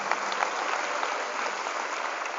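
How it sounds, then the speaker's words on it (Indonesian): An audience at a motivational seminar at Darul Qiyam Gontor Campus 5 in Magelang claps together, a steady, dense patter of many hands sustained evenly throughout. "Tepuk tangan buat rekan kita hari ini."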